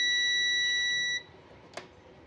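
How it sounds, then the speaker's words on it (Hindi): A UT33D+ digital multimeter gives a continuity-test beep, a steady high-pitched electronic tone that holds for about a second and then cuts off, leaving a quiet room with one faint tap. "ये बीप की आवाज़ इस तरीके से आपकी आएगी"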